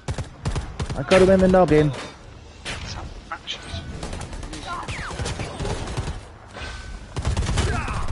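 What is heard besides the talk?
gunfire in Predator Hunting Grounds video game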